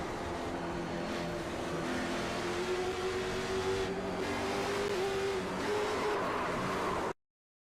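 Onboard engine roar of a race car in a virtual Xfinity Series racing game at North Wilkesboro, a steady loud drone with a rising pitched tone through most of the stretch, then cutting off abruptly.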